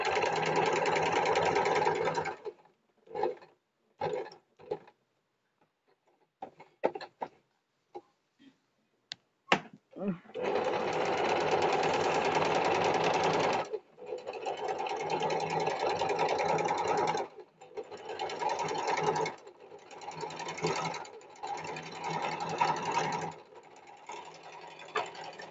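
A sewing machine stitches two layers of fabric for a boat neck blouse, running in steady motor bursts with short stops and brief ticks between seams, close and clear.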